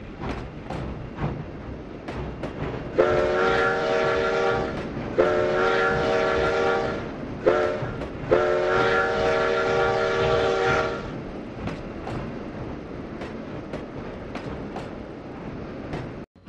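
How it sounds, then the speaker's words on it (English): A narrow-gauge Denver & Rio Grande Western train in a video game rumbles steadily past while its horn sounds in several long blasts with short gaps, loud and fairly close, fading back to the engine's rumble. "Our train has just crossed the Rio Chama River and is about to cross Highway 17"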